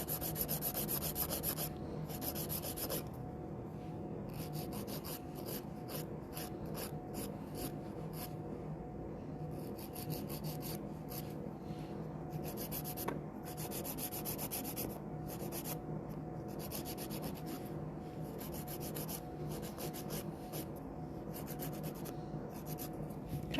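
A nail file scraping gel polish off fingernails, a steady close-up rubbing rasp that runs continuously with short rhythmic strokes and no talking.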